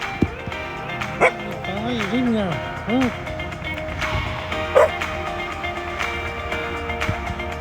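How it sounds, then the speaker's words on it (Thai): A dog at Wat Na Rang Nok temple in Songkhla gives a few yips and whimpering barks in short bursts, fairly close, over steady outdoor background noise. "สังเกตดูจะมีสุนัขอยู่ตัวนะครับ"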